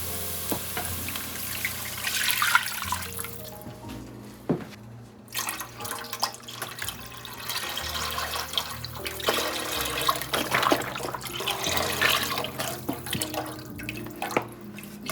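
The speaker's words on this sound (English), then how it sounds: "We're going to go ahead and put our chicken broth and our water in." Chicken broth and water pouring into a soup pot over sizzling onions, garlic and seasoning, a liquid gush and splash with crackling and clinking of the container, close and fairly loud.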